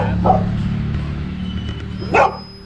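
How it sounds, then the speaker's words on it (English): A black Labrador guard dog at a garden restaurant gives two short barks, the first soft and the second louder, over steady background hum in an open outdoor setting. "Here's our guard dog."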